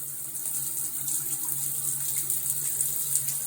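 Steady hissing spray of running shower water, continuous and even, with a faint low hum underneath and no voices.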